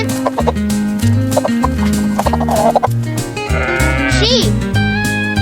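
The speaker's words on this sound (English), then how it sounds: "Chicken." Chicken clucks sound in short repeated bursts over a bouncy, rhythmic barnyard-themed children's music beat, loud and up front in the mix.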